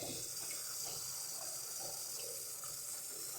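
Steady rushing water pours into a pot to be boiled for paragis grass herbal tea, a constant close hiss with no talking.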